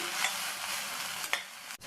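Mint and coriander leaves are stirred in a hot pan, a soft steady sizzle with a couple of scraping strokes and no talking.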